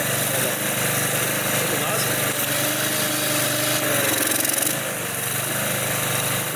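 A small pressure washer engine runs steadily at a constant drone, loud and close, with a brief rise in roar near the end.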